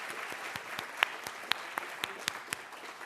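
A small audience gives a brief, light round of applause for Corey Rose at a panel on violence against trans and non-binary people, with sparse scattered claps fading over a few seconds.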